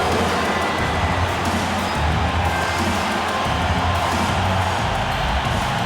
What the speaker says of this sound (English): Another round of applause for your Minnesota Timberwolves.